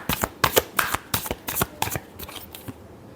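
A deck of tarot cards is riffled and shuffled close by in a quick run of crisp, fluttering bursts that grow slightly softer toward the end.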